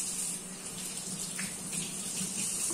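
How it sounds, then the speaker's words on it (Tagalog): Tap water runs steadily into a kitchen sink while cooking utensils are washed, a continuous even hiss of flowing water with no talk over it. "Maghuhugas na nga tayo ng mga gagamitin natin."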